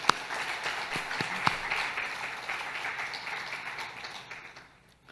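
A church congregation applauds during a Sunday worship service, a dense patter of clapping that stays steady, then gradually fades out at the end.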